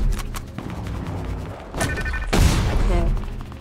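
Rocket launcher blasts from Fortnite boom loudly amid busy game noise, one heavy explosion standing out midway among thumps and gunfire-like bursts, close and dominant.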